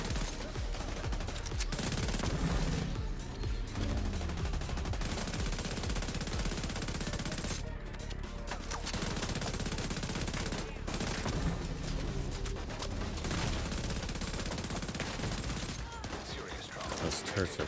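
Sustained turret machine-gun fire in The Division 2 hammers continuously through a noisy combat scene, with brief lulls between bursts and a voice talking over the shooting.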